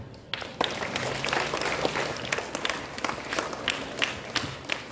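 A middle school assembly audience gives a round of applause, many hands clapping in a dense, steady patter with a few sharper individual claps, moderately distant and continuing for several seconds without speech.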